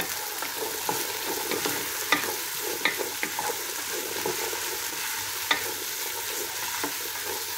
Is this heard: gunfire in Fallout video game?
no